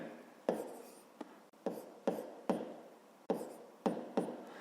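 Handwriting a maths solution for a fifth-grade geometry exercise: pen strokes scratch across paper in short bursts with sharp taps between them, close and quiet, no talking.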